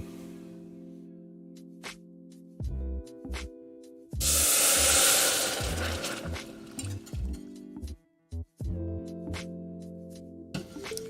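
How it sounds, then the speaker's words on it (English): Beef stock and Worcestershire sauce are whisked in a pan with bursts of metallic clinking and scraping, broken by sizzling hiss and pauses, heard close in a kitchen. "And we're gonna whisk vigorously to take out any lumps."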